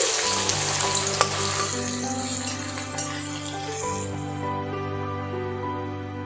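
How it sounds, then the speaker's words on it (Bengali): Onions frying into crispy beresta in hot oil in a wok, with a loud, dense, continuous sizzle and an occasional clink of a utensil, heard up close. "কড়াইয়ে তেল গরম দিয়ে বেরেস্তা বানিয়ে নিচ্ছি।"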